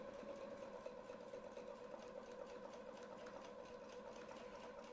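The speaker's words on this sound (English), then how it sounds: "We're going to sew up." A sewing machine stitches steadily through a quilt, a faint, even whirring hum with a fast regular needle rhythm that runs without a break.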